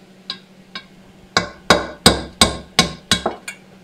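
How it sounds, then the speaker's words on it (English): A hammer strikes a socket to drift a needle roller bearing out of a Triumph Trident T160 engine crankcase, two light taps followed by about seven hard, ringing metallic blows in a steady rhythm, loud and close. "And now I'll try drifting out the bearing."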